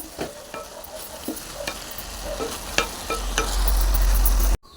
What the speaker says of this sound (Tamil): கொஞ்சம் போல் எண்ணெய் ஊற்றிருக்கேன் அதில் வந்துட்டு கொஞ்சம் பாவைக்காய் வத்தல் வந்து சேர்த்துக்கிறேன் இதை வந்து இப்படி வறுத்து எடுத்துக்குவேன்